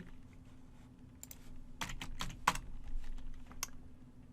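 Scattered keystrokes tapped on a computer keyboard at a terminal, a few quick clusters of clicks over a low steady hum, fairly close and quiet with pauses between.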